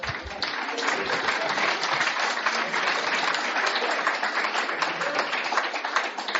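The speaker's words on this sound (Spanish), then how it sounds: "Démosle un aplauso." A church congregation applauds during a sermon, a full, steady wash of many hands clapping that begins abruptly and continues evenly throughout.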